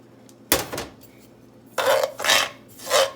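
Sugar pours and scrapes into a hot metal pot on the stove for caramel icing: a sharp rattling pour, then three gritty stirring scrapes against the metal.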